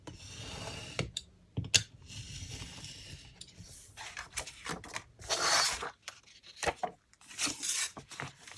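Paper being cut on a cutting board, with scattered sharp clicks and scraping slices, a longer rasping cut near the middle, close and fairly quiet.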